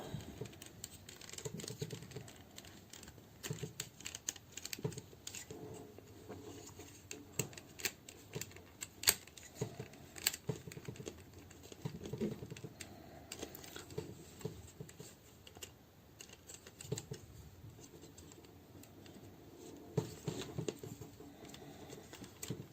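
Folding the plastic arms of a Transformers Studio Series Starscream toy figure produces faint, close clicks and small ratcheting snaps, scattered irregularly over a quiet background.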